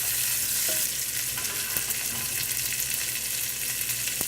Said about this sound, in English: Now we'll put in our scallions, saute those.